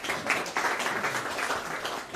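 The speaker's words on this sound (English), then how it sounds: "Please welcome with a warm round of applause." Warm round of audience applause at a talk or presentation, a steady dense wash of many hands clapping with no pauses for about two seconds.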